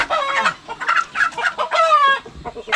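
Chickens on a farm clucking close by in quick, uneven bursts of squawks and clucks, with one longer drawn-out call near the end and no talk over them.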